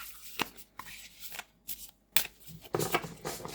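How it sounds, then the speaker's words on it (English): Heartwood Tarot cards riffled in overhand shuffles, brisk papery bursts of flicking and slapping cards separated by short pauses, close and clear. "So I'll just shuffle each half a couple of times."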